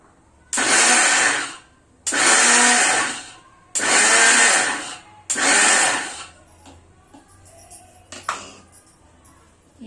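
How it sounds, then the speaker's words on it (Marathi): An electric mixer grinder grinds cooked chana dal in four loud, steady bursts of about one and a half seconds each, separated by short pauses, followed by a quiet clatter of the jar. "जी डाळ आहे ना आपण आता मिक्सरला लावून घेते असं बारीक करून घ्यायची"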